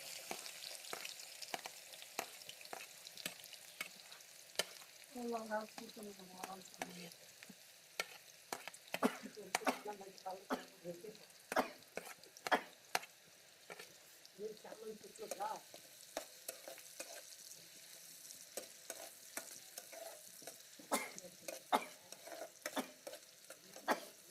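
Onions frying in hot oil with fenugreek seeds for a pulusu stew, a steady close sizzle with spatula scrapes and stirring clatter throughout, no voices.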